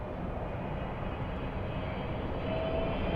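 A plane landing at Los Angeles LAX airport gives a steady, loud broadband roar that holds evenly throughout and swells slightly near the end.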